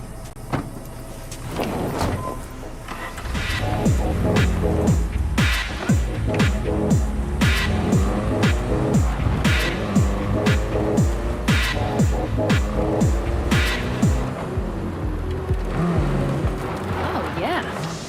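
Car driven in the video game Cyberpunk 2077: a loud, continuous engine drone with shifting tones that swells after a short start, with game sounds and voices layered over it.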